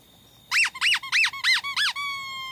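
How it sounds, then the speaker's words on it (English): A squeaky dog toy squeezed five times in a quick, even rhythm, each loud, close squeal rising and falling in pitch, with a faint hiss before and a lingering tone after. "by squeezing this toy"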